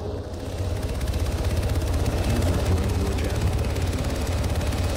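A helicopter in a video game gives a steady, loud rotor and engine drone with fast rhythmic chopping that holds close and constant throughout, with no talk over it.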